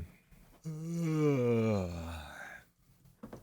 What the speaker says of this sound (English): And now we have that yawn.